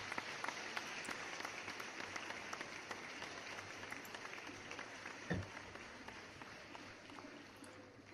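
Faint, thin clapping from a small audience during a live Q&A, a light steady patter with one sharp thump partway through.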